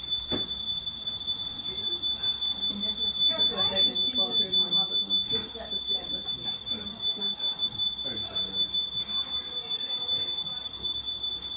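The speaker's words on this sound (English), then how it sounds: "Can we not turn the alarm off?" A smoke alarm sounds indoors with a continuous piercing high-pitched tone throughout, loud and steady while several people talk and call out over it.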